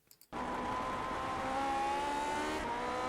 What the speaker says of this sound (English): You can hear the balance of the car shift and just a massive spin